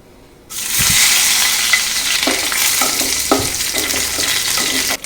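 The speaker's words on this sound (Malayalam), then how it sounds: "എണ്ണ ചൂടായി കഴിഞ്ഞ് കടുക് ഇടുക. കടുക് പൊട്ടിക്കഴിഞ്ഞിട്ട് വേപ്പില ഇടുക." Mustard seeds and curry leaves hit hot oil in a kadai while cooking a tapioca and raw banana stir-fry, bursting into a loud, steady sizzle with scattered crackling pops and spatters close by.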